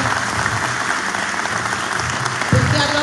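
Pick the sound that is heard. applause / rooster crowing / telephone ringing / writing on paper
applause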